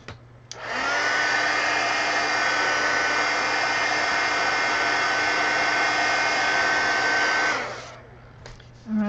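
A hair dryer blasts over wet gouache paint, switching on with a click and roaring in a steady, loud whoosh for about seven seconds before cutting off.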